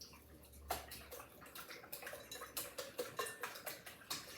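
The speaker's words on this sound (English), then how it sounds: "I've got a little whisk, and I'm just gonna whisk these around" Eggs are whisked in a bowl in quick, rhythmic clinking strokes of metal against the bowl, close and fairly quiet, speeding into an even beat.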